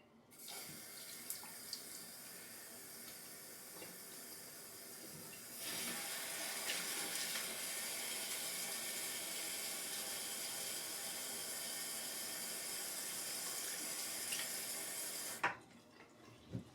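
Water runs steadily from a tap while shaving lather is being thinned, a soft flow that turns louder and broader partway through, then stops, with a couple of small clicks at the end.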